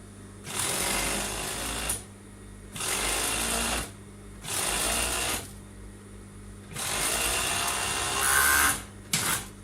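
Sewing machine stitching the side seams of a skirt, running in four loud, close bursts of even whirring separated by brief pauses.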